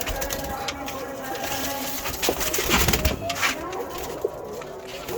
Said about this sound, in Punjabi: ਦੇਖੋ ਮਾਸ਼ਾਅੱਲਾ ਇਮਾਮਦੀਨ ਕਬੂਤਰਾਂ 'ਚੋਂ ਬਣਿਆ, ਗੋਲਡਨਾਂ 'ਚੋਂ ਬੜਾ ਚੰਗਾ ਕਬੂਤਰ